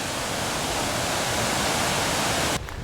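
A hillside stream or waterfall near Glen Doll in Scotland, loud, steady broadband rushing that fills the whole clip before cutting off sharply near the end.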